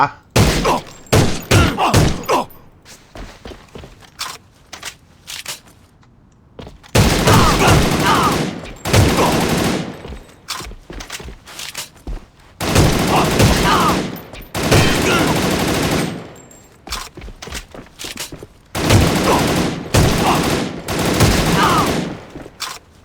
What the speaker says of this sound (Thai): ยิงตัวก่อน สี่นัดตายเหมือนเดิมนะฮะ